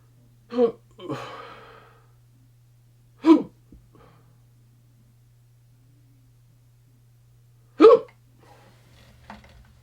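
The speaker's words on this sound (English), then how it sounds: "I have the hiccups now." A person hiccuping alone in a quiet room, four sharp close gulping catches spaced a few seconds apart, the second trailing into a breathy sigh, over a faint steady hum.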